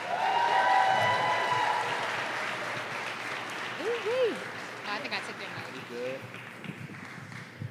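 Applause from a crowd welcoming the performer Dee-1 onto the stage, loud and steady from the start and slowly thinning out, with some cheering and voices mixed in.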